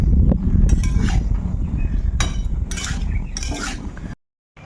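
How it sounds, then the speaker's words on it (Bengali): Pumpkin, soybean and potato being stir-fried with spices in a pan: continuous loud rustling and scraping of stirring with occasional utensil clinks against the pan, close up, ending in a brief silence. "এই যে এখানে সবজিগুলো সমস্ত একদম মশলার সঙ্গে কষিয়ে নিয়েছি"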